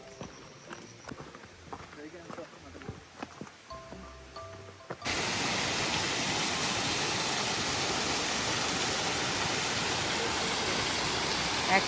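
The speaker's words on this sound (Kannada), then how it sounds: "Waterfalls." Quiet clopping and knocking give way abruptly to the loud, continuous roar of a small private waterfall at Mudigere running with low summer water, close and steady to the end.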